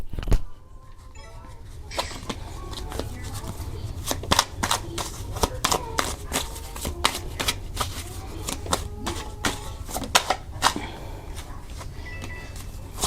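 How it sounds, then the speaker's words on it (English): Repeated crisp riffling and flicking of playing cards being shuffled, close by, in bursts over a low steady background hum. "let's go ahead and shuffle the cards really quick"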